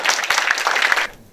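Audience applause at a live game-development conference session, a dense burst of clapping from a crowd that carries on steadily for about a second before fading out.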